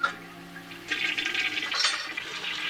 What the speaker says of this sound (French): Après avoir montré la première chasse d'eau tirée au cinéma.